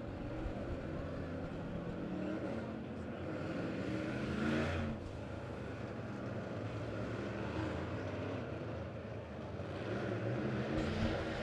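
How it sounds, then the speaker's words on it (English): USRA B Modified race cars rolling onto the track for a heat race at Monett Motor Speedway, heard as a continuous rumbling engine drone that swells and fades at a distance, with no talking. "Davis & Sons USRA B Modified Heat Race number 2 making their way onto the track now"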